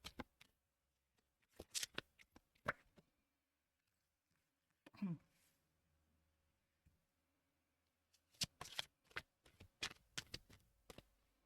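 Tarot cards are laid down and handled on a quiet surface, with soft snaps and rustling slides in short clusters separated by near silence.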